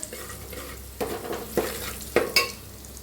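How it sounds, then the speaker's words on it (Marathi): Spices including asafoetida are dry-roasted and stirred in a pan for a spicy kat amti, with a soft continuous sizzle broken by several sharp scrapes and clinks of the spoon against the metal, close and without speech. "आता भाजून घेऊया भाजला भाजलाय"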